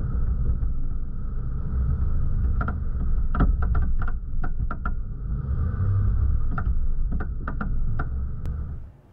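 A 2022 Ram 1500 Big Horn in four-wheel high at maximum ride height crawls over soft, very rocky dirt, giving a steady low engine rumble with scattered sharp knocks and clatters from stones under the tires.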